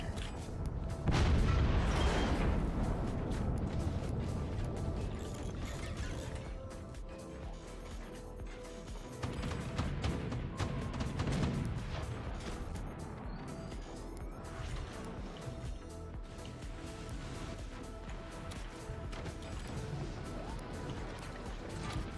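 Weapons firing in the physics-based strategy game Forts, with heavy booming impacts and crashes over a dense, continuous layer of battle noise, loudest early and then steady throughout.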